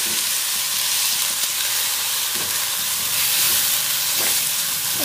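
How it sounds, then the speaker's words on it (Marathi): Ground spice paste with cumin and a pinch of asafoetida sizzles loudly in hot tempering oil, a steady, bright frying hiss with faint stirring scrapes. "त्याचा तरतर आवाज थोडा कमी होईल तोपर्यंतच परतायचं"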